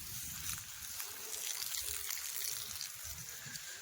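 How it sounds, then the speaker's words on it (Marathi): Water from a bore pump trickling and splashing steadily onto garden plants, a continuous close hiss with a low rumble underneath and no talk. "तोच तर मी तिकडे जरा घालते पाणी झाडांना"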